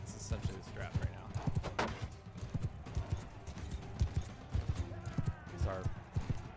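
Horse hooves clip-clopping in a rhythmic gallop through the whole stretch in Mount & Blade II: Bannerlord, moderately loud and close, with a voice talking over it.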